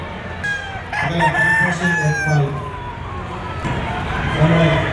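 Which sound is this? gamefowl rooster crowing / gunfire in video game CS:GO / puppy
gamefowl rooster crowing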